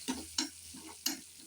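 Spices with asafoetida stirred and sautéed together in a pan for a gooseberry rice dish: three sharp scraping stirs over a faint, steady sizzle, close and fairly quiet, with no talking.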